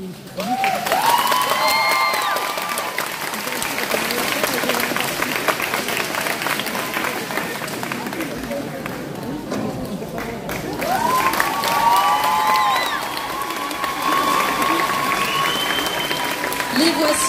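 Audience at a cosplay competition applauding the arrival of the three jury members, a long loud sustained wave of clapping and cheering that swells again partway through, with music and voices mixed in.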